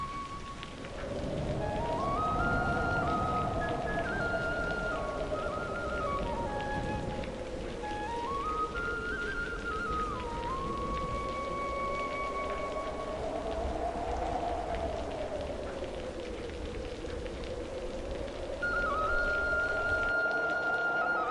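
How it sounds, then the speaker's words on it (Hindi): Heavy rain pours steadily as a broad, continuous hiss, with a slow, swelling musical melody playing over it throughout. "3 दिन से लगातार बारिश हो रही थी।"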